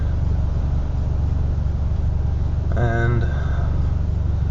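Manual car engine pulling away slowly in first gear without the clutch, a steady low engine rumble under the driver's talk, with a brief tonal whine partway through.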